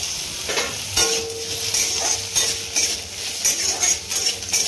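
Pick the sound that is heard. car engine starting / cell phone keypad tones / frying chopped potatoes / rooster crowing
frying chopped potatoes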